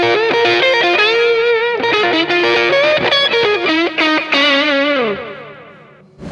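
Distorted electric guitar plays a filler lick, a fast bluesy run of bent and sliding notes with chorus-like shimmer, loud and close, ending in a sustained note that fades out.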